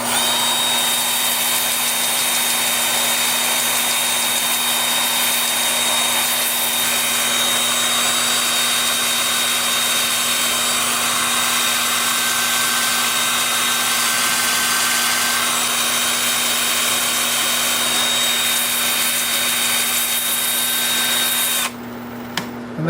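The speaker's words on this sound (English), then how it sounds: "And then with the lathe spinning in reverse at about 380," A wood lathe spins in reverse at about 380 rpm while a walnut piece turns, giving a steady, continuous whir with a constant tone that holds for over twenty seconds before stopping abruptly.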